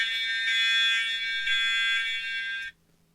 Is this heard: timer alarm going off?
yes